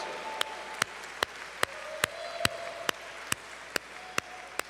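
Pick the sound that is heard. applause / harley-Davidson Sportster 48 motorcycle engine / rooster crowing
applause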